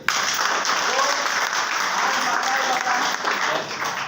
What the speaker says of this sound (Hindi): और एक बार अपने लिए आप लोग जोरदार ताली बजाइए।